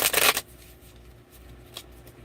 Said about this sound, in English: I've already shuffled, but I'm going to shuffle a little more.